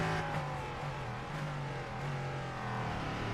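A Ligier prototype race car with a naturally aspirated 5.6-litre Nissan V8 in a sim racing game at Laguna Seca, its engine droning steadily loud and close throughout, with no voices.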